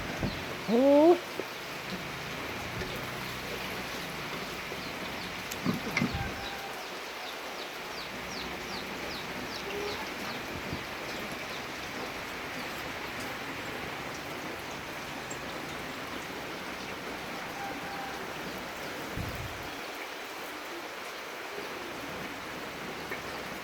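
Light rain patters steadily in a rural countryside setting, a soft continuous wash throughout, with a rooster crowing briefly near the start and a few quiet voices speaking at moments.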